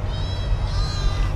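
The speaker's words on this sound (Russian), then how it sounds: "Домашние котята наши." Domestic kittens meowing close by, a couple of drawn-out, high, wavering mews filling the moment, with no speech over them.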